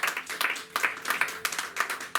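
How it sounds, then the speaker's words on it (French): A church congregation claps to acclaim God, a brief burst of rhythmic hand claps, close and lively, with a faint voice mixed in. "Je voudrais qu'on acclame l'Éternel Dieu pour sa bénédiction."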